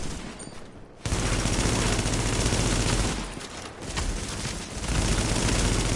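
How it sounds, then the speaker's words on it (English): Sustained bursts of automatic gunfire in the video game The Division rattle almost continuously, briefly easing before resuming loud and close. "It's a gunfire this way."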